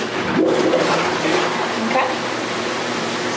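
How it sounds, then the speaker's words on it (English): Bathtub jets churn water in a steady, loud rushing roar that fills the whole stretch, with faint talk underneath. "I'm gonna go ahead and turn on the jets, so it's gonna get a little bit loud"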